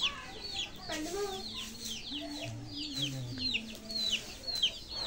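Backyard chickens cluck and squawk in overlapping calls, with sharp bird chirps scattered throughout, moderately loud and continuous over a low ambient hiss.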